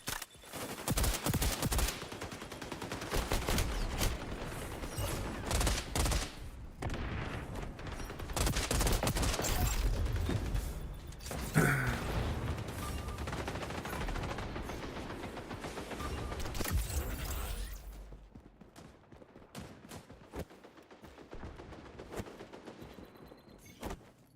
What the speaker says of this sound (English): so many people using shotguns is ridiculous